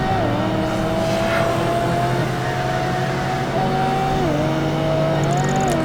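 Race car engine in Project Gotham Racing 2, a silver Pagani Zonda S driven at full throttle, loud and close, holding a steady high drone with distinct pitch drops at each gear shift.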